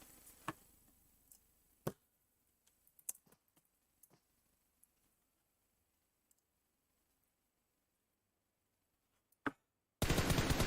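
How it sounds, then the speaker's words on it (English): Gunshots in a battle royale video game during a competitive scrim match: a few isolated sharp cracks spread out across mostly quiet stretches, ending in a sudden burst of loud broadband noise. "Shots coming out there from Naruto into Sedweek"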